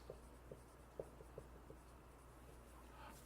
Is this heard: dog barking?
no